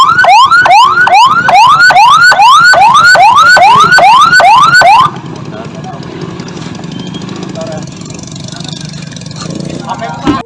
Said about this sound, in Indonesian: Untuk mayat sendiri sekarang dievakuasi menggunakan ambulan dari Puskesmas setempat Ketapang.